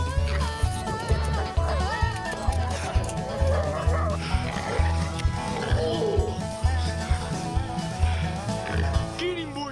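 Hunting dogs bark repeatedly while being collared up before a feral pig hunt in New South Wales, loud and close with rhythmic yips and whimpers over busy background noise.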